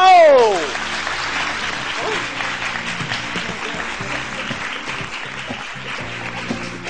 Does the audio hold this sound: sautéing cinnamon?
no